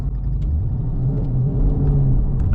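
A car towing a trailer cruises on a highway, giving a steady low engine rumble and road drone that holds throughout, close and fairly loud, with no voices.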